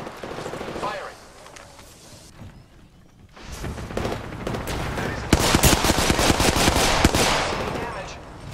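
Apex Legends gunfire rattles in rapid automatic bursts, loud and dense, with the heaviest stretch in the second half and a quieter lull near the middle; game voice lines come in over it.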